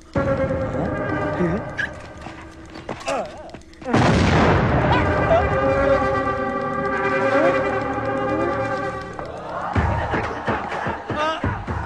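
Bomb blasts in a Telugu comedy movie scene: a loud, sudden broadband boom near the middle sets off a long roaring rumble with music and crowd noise layered over it, and a second burst follows near the end.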